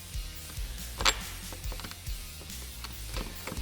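Nuts being threaded by hand onto windshield bracket hardware on a Polaris Ranger 1000/XP, close, quiet, repeated small metallic clicks and ratcheting ticks in an irregular rhythm, with no talking.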